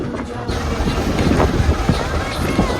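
Strong sea wind roars and buffets the microphone on the coast during traditional dol net fishing, with rushing waves and a faint voice underneath.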